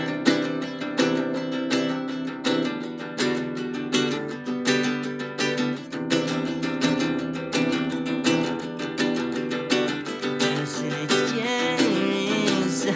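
Dense, steady guitar strumming of the chords to a song, a full band-like wash of continuous rhythmic strokes, loud and close with no voice over it.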